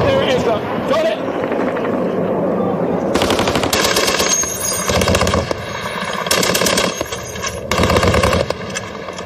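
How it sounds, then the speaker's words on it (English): An F-16 jet makes a strafing run with rapid bursts of heavy automatic gunfire during a combat engagement in Afghanistan. The loud, dense rattling comes in repeated sustained bursts, and people are speaking underneath. "Just as an F-16 runs a strafing run."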